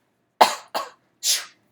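Three quick coughs, close and fairly loud, the first two in rapid succession and a breathier third after a short pause, with silence between.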